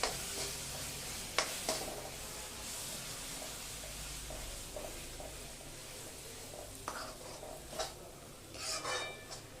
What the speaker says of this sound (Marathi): हे मीडियम गॅसवर तेल सुटेपर्यंत परतून घ्यायचं